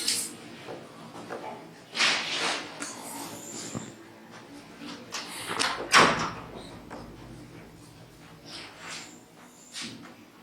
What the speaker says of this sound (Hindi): किसने खोल दिया है दरवाजा? बंद करो जरा दरवाजा।